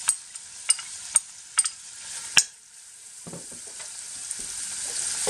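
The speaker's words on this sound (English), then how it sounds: "And now we're going to add 1 whole chopped onion" Chopped onion hits hot fat in a pot for fish chowder, bursting into loud crackles and a few sharp spits at first, then settling into a quieter, steady close sizzle.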